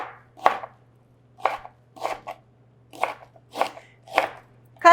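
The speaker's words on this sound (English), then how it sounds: "Cut it into big chunks." A knife chops fresh ginger into big chunks on a board, seven crisp separate strikes at an uneven, unhurried pace, close and clear over a faint steady electrical hum.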